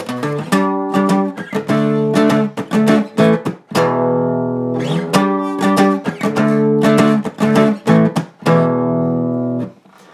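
Guitar playing a song's transition riff: loud, rhythmic, ringing chords and picked notes, heard alone, with a brief pause near the middle and a sustained final chord.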